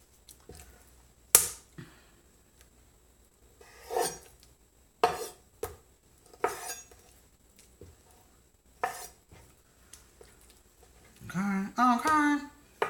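A knife cuts through raw chicken tenderloin on a board in a home kitchen, making sharp, scattered chops and taps with quiet gaps, while a person talks near the end.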